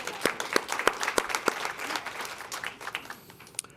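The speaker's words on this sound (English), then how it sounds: "Can we get a hand clap for that?" An audience at a Women's History Month event for a water reclamation district gives applause. Sharp, distinct claps ring out at first, then thin into softer, scattered clapping.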